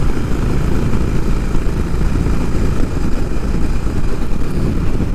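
A Honda H'ness CB350 motorcycle engine runs with a loud, steady, rumbling throb that stays even for the whole stretch, with no talking.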